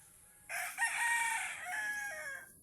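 A rooster crows once in a long, loud call close by, with a few soft clucks from chickens around a rural hut in Allen, Samar.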